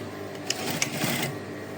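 A sewing machine runs briefly while stitching the seam of a half flared skirt, a close, steady mechanical whir with a couple of sharp clicks inside the short burst.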